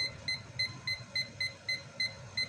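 A kitchen timer on a stovetop setup for steaming fish gives a steady run of about nine short, evenly spaced electronic beeps as it is set to ten minutes, fairly quiet and clear, with no talking.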